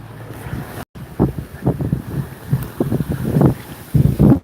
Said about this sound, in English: It's gonna be a little bit loud outside because it's windy as fuck out there.